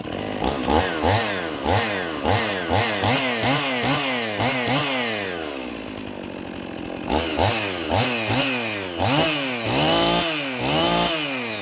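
Husqvarna 51 chainsaw restarts and runs, loud and close, with repeated revving bursts rising and falling in a steady rhythm, a brief lower idle in the middle, then more revving.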